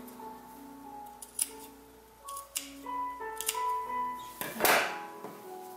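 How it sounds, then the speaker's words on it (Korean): Several sharp metallic snips of scissors cutting notches in corduroy fabric for baby clothes, spaced irregularly, with a louder crisp cut near the end over a quiet background hum. "이런 데 가위집을 좀 주세요"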